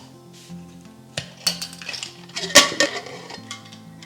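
A pressure cooker lid being opened on a pot of chorizo pulao, with a few metallic clanks and clinks of the lid and pot, the loudest clatter near the middle, otherwise quiet.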